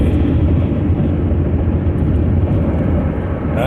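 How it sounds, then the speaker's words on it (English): Steady, loud road roar of a car cruising a highway into Los Angeles during morning rush hour, a continuous broadband rumble with no breaks and no talking. "What a beautiful drive into LA today."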